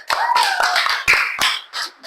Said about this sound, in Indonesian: Tepuk tangan dong buat Winda.